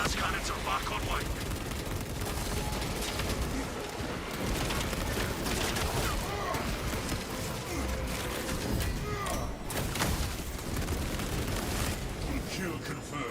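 Las cannons fire in a mobile video game, a dense, continuous barrage of crackling, booming blasts with rapid bursts and rumbling impacts, loud throughout and mixed with other game effects.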